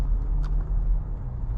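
Inside a 2015 Mercedes ML63 AMG W166 on the move, a deep, steady engine and road rumble hums low throughout, with light cabin knocks over it.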